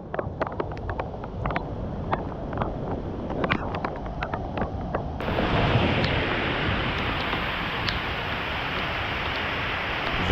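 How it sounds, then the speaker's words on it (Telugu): Broad rushing roar of the waterfall at KP Falls in Lonavala, heard close and steady, with gusts of wind buffeting the microphone and scattered clicks early on before the roar thickens and fills everything. "వామ్మో ఏందిరిది ఇప్పుడు ఈ వాటర్ ఫాల్ దాటుకొని వెళ్ళాలా మనం"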